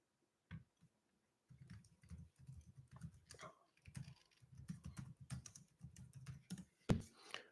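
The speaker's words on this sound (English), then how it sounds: "I typed in California unclaimed money" Rapid, irregular clicking of computer keyboard keys in bursts, near and moderately quiet, with short pauses between runs of typing.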